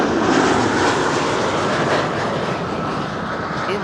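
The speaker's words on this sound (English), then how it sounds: "There's an Embraer 190 arriving from Brussels, passing by behind me" An Embraer 190 airliner arriving from Brussels passes by at Amsterdam Schiphol Airport, its loud, rushing engine roar close and strongest early, then easing slightly as it goes by.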